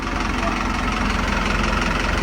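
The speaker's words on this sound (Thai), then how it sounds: "ก็เครื่องยนต์เป็นดีเซลนะครับ" A diesel engine on a Yamaha UF 23 boat idles steadily nearby with a constant low, knocking rumble and vibration that never lets up.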